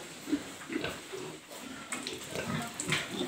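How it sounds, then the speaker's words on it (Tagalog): A large pig grunts repeatedly in short, rough bursts, close to the listener and fairly loud. Splashing water and background noise sit under the grunts. "Baboy pa ba na?"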